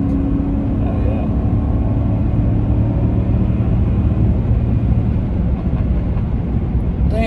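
A 2014 Chevrolet Silverado LTZ with a V8 engine accelerates, its steady low engine rumble and road noise filling the cabin at a constant, fairly loud level without a clear rise or fall, with no one speaking.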